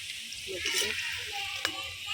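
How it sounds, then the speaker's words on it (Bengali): Nimki dough drops into very hot oil and puffs up, a soft, steady sizzle and bubbling heard fairly quietly at close range, with faint voice sounds in the background. "একদম গরম তেলে দিবেন একদম এই যেভাবে ফুলে উঠবে"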